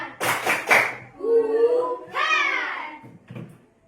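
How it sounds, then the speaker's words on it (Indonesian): A few quick, sharp claps from a classroom group doing a rhythmic spirit clap during a teaching-practice lesson, followed by voices laughing and talking nearby. "Tepuk semangat dulu untuk kita semua kan?"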